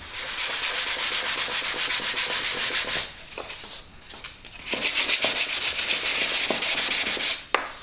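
Close, rhythmic scraping of sandpaper on dried wood filler in quick back-and-forth strokes, pausing briefly midway before resuming, with a few light knocks.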